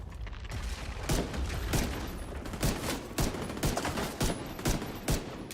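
Repeated pistol shots from a stormtrooper pistol in The Division 2, fired in an irregular series of sharp cracks over a constant background of game noise.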